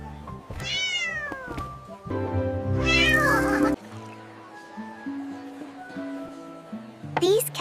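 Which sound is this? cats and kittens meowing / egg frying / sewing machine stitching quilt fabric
cats and kittens meowing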